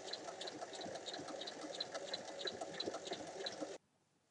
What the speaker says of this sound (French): Et je vais faire une surpiqûre de chaque côté des coutures.